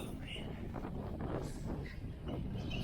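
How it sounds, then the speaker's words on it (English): Cold wind blowing outdoors in a cattle pasture, a steady close rushing roar buffeting the microphone with low rumbling gusts throughout, with no talking. "Windy and cold."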